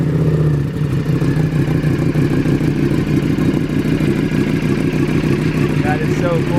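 A 2023 Ducati Panigale V4 with a clear clutch cover runs loud and close at a steady idle, its throbbing engine note layered with a dry clutch clatter, and no voices can be heard.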